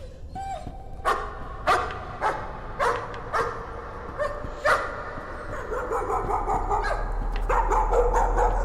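A dog barks in the video game Layers of Fear, several sharp separate barks and yips in an uneven rhythm, followed by a denser run of barks over a rising low rumble.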